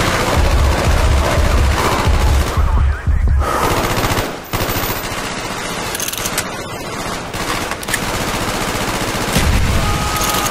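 Loud, sustained automatic gunfire in Call of Duty Black Ops fills the whole stretch in dense, rapid bursts, with only brief dips in intensity.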